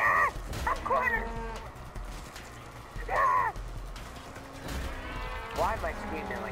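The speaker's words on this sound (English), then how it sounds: "Move out the way, cows." Cows mooing in the Black Ops 3 Dead Ops Arcade video game, several loud moos in turn with hoof-like clopping and game noise, while a player talks over them.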